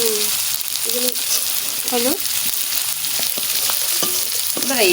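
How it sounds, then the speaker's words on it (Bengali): Fish curry frying in melted oil in a pan is stirred, giving a steady loud sizzle with a spatula scraping and clinking at intervals. Faint voices come through now and then. "এখন নাড়বো হ্যাঁ তেল তো গলা শুরু হয়ে গেছে"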